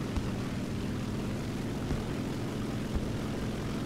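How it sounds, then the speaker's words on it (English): Bomber aircraft engine in the War Thunder video game, a steady loud droning roar that holds evenly throughout with a few faint thumps, no talking. "This is a bomber."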